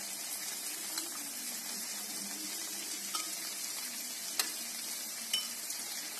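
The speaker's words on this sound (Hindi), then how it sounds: "तो अब मैं इसमें पनीर डाल दूंगी" Marinated paneer cubes go into a frying pan and are stirred over the flame, a quiet, steady sizzle with faint scraping and a few small clicks, no talking.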